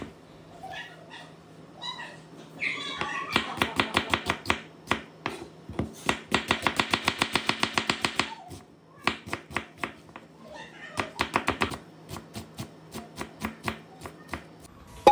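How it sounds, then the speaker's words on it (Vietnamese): A knife dices an onion on a cutting board in rapid, crisp chopping strokes, coming in bursts of steady rhythmic taps with short pauses between runs, close and clear, with no talking. "cắt hành tây thành hạt lựu"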